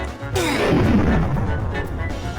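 A single booming bomb blast bursts out and rumbles away, loud and close, with a brief sharp crack at the start, in the Roblox game Troll Bomb Tower 2.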